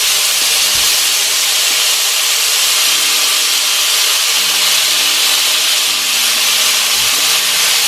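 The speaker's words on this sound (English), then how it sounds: "So we're just going to sear these off a little bit, just to trap that flavor in." Pieces of goat meat sear in a hot pot for Jamaican curried goat, giving a loud, continuous sizzle and hiss that stays steady throughout, with faint clunks underneath and no talking.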